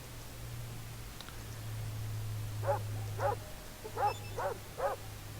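A dog gives five short barks in an uneven series over a steady low hum in the video game Fallout 2, moderately close and fairly quiet.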